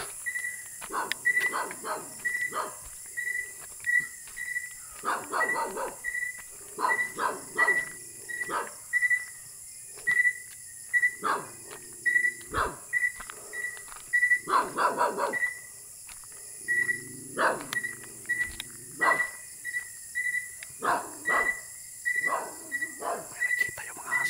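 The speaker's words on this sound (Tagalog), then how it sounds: "Nakita yung mga aso guys dito banda." Several dogs bark repeatedly in short bursts and clusters outdoors at Antico, at moderate distance, over a steady high insect hiss.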